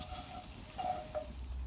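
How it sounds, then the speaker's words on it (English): Spices and onions sizzle softly while being stirred in a Dutch oven over a campfire, a low steady frying hiss with a few faint scraping touches, no talking. "give those spices and the onions a stir now, and let them sweat down for about 10 minutes"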